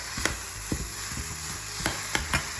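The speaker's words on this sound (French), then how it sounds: "Oignons émincés, une noisette de beurre. Ça va revenir légèrement." Sliced onions cooking gently in a knob of butter in a pan, a soft steady sizzle under intermittent spoon knocks and stirring taps, close and unaccompanied by speech.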